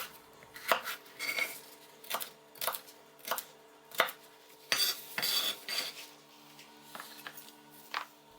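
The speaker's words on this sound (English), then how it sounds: "Roughly cut up some onions," Knife chopping onions and peppers on a cutting board, roughly cut for sweet and sour pork: a steady series of sharp, close thuds at about one or two per second, with no talk.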